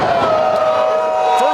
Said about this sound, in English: And Moose again looking to rally the crowd here in LaSalle, Ontario.